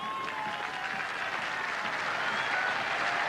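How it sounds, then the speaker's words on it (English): A cricket crowd applauds Ian Botham at the 1984 Silk Cut All-Rounders Challenge: dense, even clapping holds at a steady level throughout, slightly distant and broad, with no voices rising above it. "And applause then for Ian Botham."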